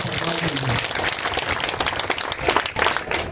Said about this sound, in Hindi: जोरदार तालियों से स्वागत कीजिए, अभिनंदन कीजिए